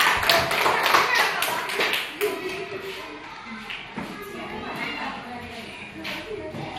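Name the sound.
applause, clapping for a student in class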